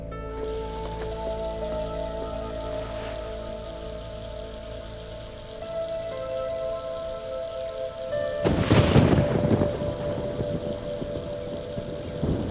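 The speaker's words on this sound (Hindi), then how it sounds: "बारिश शुरू होने वाली है।" Steady, heavy rain hisses throughout, with a deep rumble of thunder rolling in partway through and lingering over the downpour.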